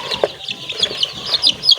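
Young chicks in a poultry house cluck and peep in quick, irregular bursts, close and fairly loud, several birds calling over one another.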